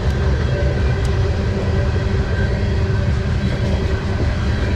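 A very long train rolls past close by, heard from a bicycle riding alongside it on a hill, a loud, steady rumble with rail clatter that continues throughout without any talk.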